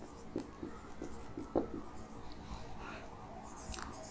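Chalk or marker writes on a board in a spoken English lesson, giving faint, short scratchy strokes that come in small bursts, quiet and close, with little else around them.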